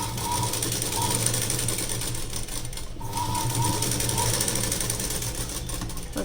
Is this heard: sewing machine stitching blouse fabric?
yes